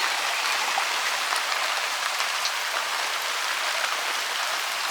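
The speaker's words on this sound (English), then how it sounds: "It's raining! Hooray!" Steady rain falls and patters densely on surfaces at an off-grid homestead in Portugal, a constant hiss with no voices.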